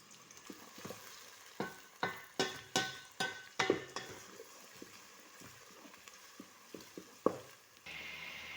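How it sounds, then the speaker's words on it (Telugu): Cumin, coriander, curry leaves and onion sizzle in hot oil, with a quick run of sharp stirring scrapes against the pan, then quieter, scattered stirs over a constant frying hiss. "నూనె బాగా గరమైంది వెంటనే జీలకర్ర కొత్తిమీర కళ్యామాకు ఉల్లిగడ్డ వేసిన"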